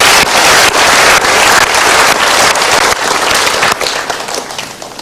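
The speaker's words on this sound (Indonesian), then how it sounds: "Kita berikan tepuk tangan untuk 2 orang ini." Loud applause at an Indonesian seminar as two women are invited onto the stage, dense close-up clapping from a large audience with sharp individual claps, sustained and then thinning out toward the end.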